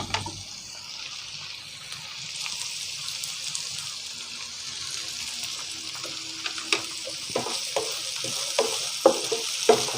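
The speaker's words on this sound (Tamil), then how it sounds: "முதல் இந்த வெங்காயம் வதங்கும் வரைக்கும் ஒரு கக்கண்டி விடுவோம் வதக்கி விடுவோம்" Onions sauté in a pan with salt, a steady close sizzle throughout, joined in the second half by scattered scraping knocks as they are stirred, no voices.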